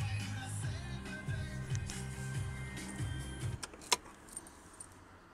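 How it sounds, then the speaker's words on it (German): Keys to a car at a dealership jangle in a few light bursts over a low engine-like hum that stops partway through, followed by a sharper metallic clink near the end. "hat mir die Schlüssel mitgegeben von diesem Auto"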